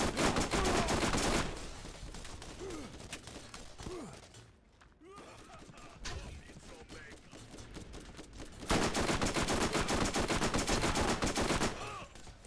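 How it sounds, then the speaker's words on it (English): Rapid bursts of gunfire from the video game Borderlands, loud and dense at the start and again near the end, with quieter scattered shots and game effects in between. "Boy, is this a useless gun"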